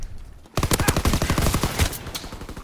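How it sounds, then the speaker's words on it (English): Rapid gunfire from a Call of Duty match, a loud dense burst of shots in quick succession lasting about two seconds, with a brief quieter lead-in before it. "everyone's using shotguns in Call of Duty again"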